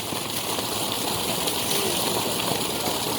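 Engine-driven tube well pump in Sabah, Malaysia filling with water, a loud unbroken gushing rush close up, with the steady drone of the pump blended beneath.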